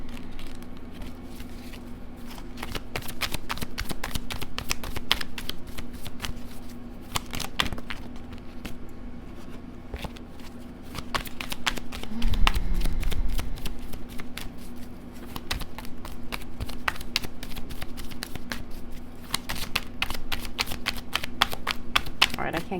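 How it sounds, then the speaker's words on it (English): A deck of oracle cards is shuffled over and over, giving a steady run of crisp riffling clicks and flutters close up above a low hum, with no voices in this stretch. "let's go ahead and pick these oracle cards"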